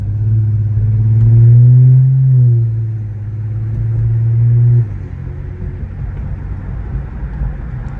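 A turbocharged 2021 Infiniti Q50 pulling hard from inside the cabin, its engine drone climbing in pitch, easing at a gear change, rising again, then dropping away to a low road rumble.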